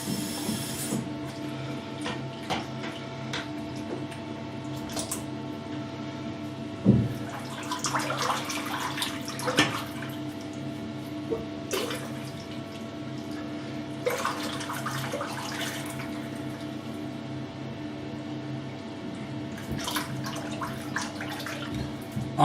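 A razor rinsed in a half-filled bathroom sink during a wet shave: intermittent splashing and sloshing bursts of water, close and moderate, separated by quieter stretches with a steady low hum underneath.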